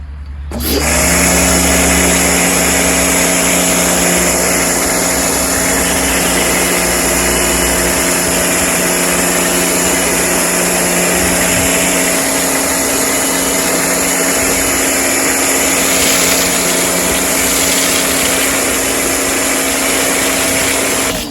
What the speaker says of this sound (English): I'm just going to vacuum this thing out